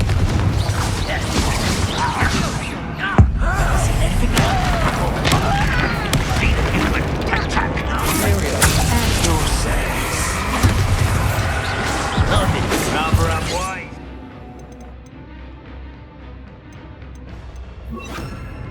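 Confringo explosion spell in the Hogwarts Legacy game: a loud, busy run of crashes, clanks and bursts with one sharp bang early on, then a sudden drop to a quieter, thinner tail.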